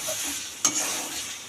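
Spice paste fries in oil with potatoes and tomatoes and is stirred under a soft, steady sizzle. A single spoon scrape or clack sounds midway through. No speech.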